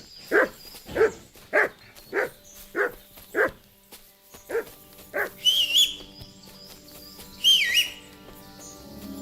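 In the video game Kingdom Come Deliverance II, an injured dog left wounded by wolves makes a series of about seven evenly spaced breathy whimpers, then quieter strained sounds mixed with whistle-like tones and faint bird chirps.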